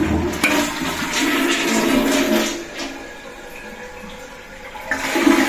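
A toilet flushes loudly at close range after its tank has refilled, a rushing gush of water that swirls for several seconds, eases off, then surges again near the end, with no talking.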